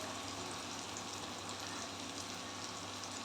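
Onion fries in a pan until golden brown, a steady soft sizzle with a fine crackle, close and quiet, with nobody speaking.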